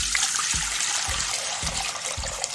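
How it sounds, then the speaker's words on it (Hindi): Water poured from a vessel into an old cooking pot holding a can, making a continuous splashing, trickling rush with low thumps recurring about every half second, close and steady throughout. "ये इसमें हमने कैन रख लिया और ये हम इसमें डाल देंगे पानी।"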